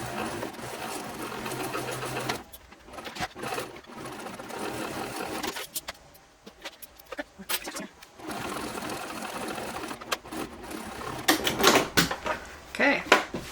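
Sewing machine basting purse pieces together in short bursts of rapid whirring stitches, broken by pauses, handling clatter and fabric rustle, with someone talking softly between runs.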